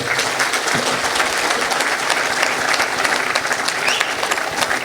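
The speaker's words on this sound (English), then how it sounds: "Round of applause for the Habib." An audience applauds at an interview event honoring Khabib Nurmagomedov. The clapping is dense and sustained, filling the room at a steady loudness with no speech over it.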